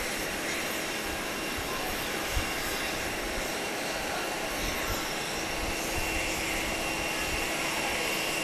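A plane at Grand Cayman airport gives off a steady, broad engine roar that holds at an even level throughout, with no clear rise or fall.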